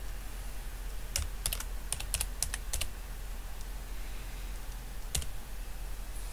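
Keys clack on a computer keyboard while an Excel formula with structured references is typed in short bursts of rapid strokes separated by brief pauses, close and without speech.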